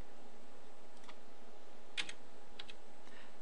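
Mouse clicks while navigating a 123CCTV DVR menu: a few sharp, faint clicks spread across a quiet background hum, no speech.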